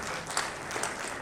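Applause from an audience at an award ceremony honouring educators, a steady dense wash of many hands clapping throughout with no talk over it.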